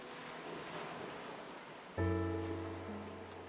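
Steady wash of sea waves with a breezy hiss; about halfway through, a loud, sustained low tone cuts in over the surf.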